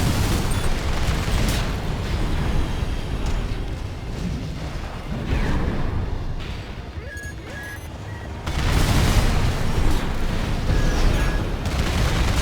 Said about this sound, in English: Not doing so well at avoiding the explosions there.